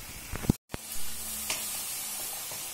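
Peppers dry-roasting in a pan with no oil give a steady, soft sizzle, broken near the start by a couple of sharp clicks and a brief dropout, then hissing on alone.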